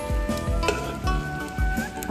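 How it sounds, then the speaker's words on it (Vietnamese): Dried salted fish sizzles steadily in hot oil in a pan, a close, continuous crackle with a few louder spattering bursts spread through it and no talking. "Khi mà mình chiên vừa vàng thôi, chứ mình chiên vàng quá là hồi nó hết thịt cho nó có giòn."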